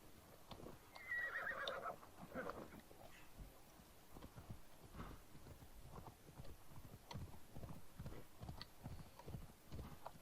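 A horse in Assassin's Creed Odyssey trots closer with steady clip-clop hoofbeats and lets out a clear whinny early on, the hooves continuing in an even rhythm over a faint ambient bed.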